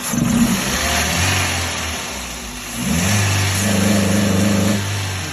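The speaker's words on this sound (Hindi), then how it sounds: "गाड़ी 3000 के ऊपर ये रेस इस तरह कर लिया" A Toyota pickup truck engine with a fault idles, then revs up twice past 3000 rpm, rising in pitch and falling back, loud and close with no talking.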